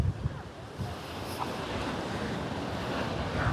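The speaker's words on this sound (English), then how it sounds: "And those waves really are coming in." Choppy waves break steadily on a normally calm beach at Costa Teguise under red-flag conditions, a loud continuous surf roar with gusting wind buffeting the microphone.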